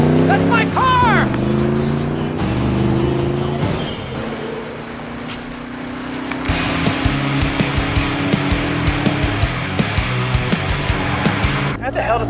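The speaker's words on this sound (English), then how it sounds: "How the hell does that thing know how to drive a car?" A car pulls away and accelerates, engine revving loud and close with tire noise, the roar building and holding steady over several seconds amid music and effects, with a brief shout at the start.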